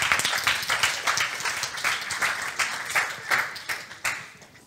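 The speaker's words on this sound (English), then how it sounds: "If no, let's give a round of applause." Conference audience applauding after a talk, a dense, steady burst of hand clapping from a room full of people, fairly close and loud, tapering slightly toward the end.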